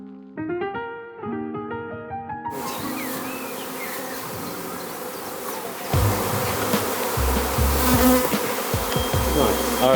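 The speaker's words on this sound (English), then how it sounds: "So this is what a bee swarm looks like. They're just hanging from the tree" A honeybee swarm hangs from a tree branch near two beehives in spring, a dense, steady buzzing that swells louder partway through, with a few clear musical notes at the start.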